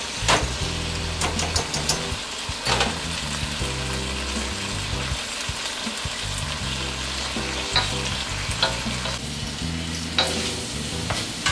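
Egg frying in a pan beneath a cover of pad thai noodles, giving a steady close sizzle with scattered stirring scrapes and clinks throughout.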